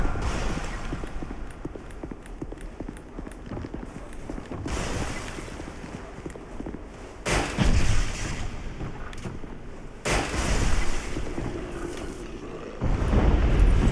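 Bombs thrown by an enemy in the game Dark Souls 2 go off in repeated heavy booms, loud and rumbling over a continuous noisy bed, with bursts landing every couple of seconds.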